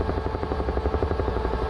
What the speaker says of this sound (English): Blade slap.